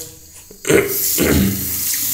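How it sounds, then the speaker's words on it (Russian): A bathroom tap in a bathtub on safari in Tanzania is switched on, a brief click and quiet drip giving way to a sudden loud, steady gush of running water close by. "крутим вправо-влево, то вода у нас холодная"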